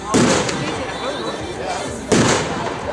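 Two loud Royal Fireworks Sky Palms shells burst nearby, one at the start and one about two seconds later, each a sharp bang that crackles off into a fading hiss.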